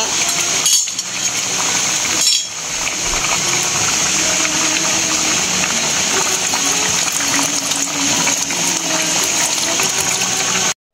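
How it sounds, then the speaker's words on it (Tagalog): Coconut milk pours into a cooking pot of ginataang puso ng saging, banana blossom in coconut milk, as a steady continuous liquid rush fills the whole stretch, with a couple of brief dips and faint clinks. "Ilalagay ko na po yung unang gata."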